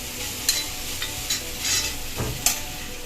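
Powdered asafoetida frying in hot oil that has cooled slightly off the flame for a dried mango pickle, giving a steady close sizzle with several sharp crackles and spatters and a soft stirring scrape.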